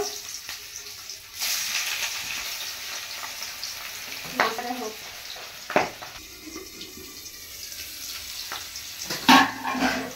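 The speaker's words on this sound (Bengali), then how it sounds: "তেলটা গরম হয়ে গেছে, মাছটা এখন দিয়ে নেব।" Fish rubbed with salt and turmeric sizzles in hot oil in a pan, a steady close frying hiss broken by a few sharp spatters and utensil clinks, with no talking.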